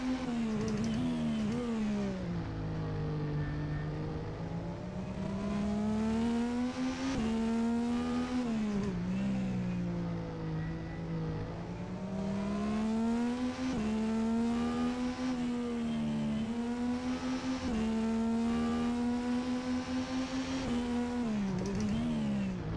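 A 2019 Apex IndyCar engine on a road course in the rFactor2 racing simulator, a loud, continuous high-revving whine that rises and falls smoothly with throttle and gear shifts, heard alone without talk.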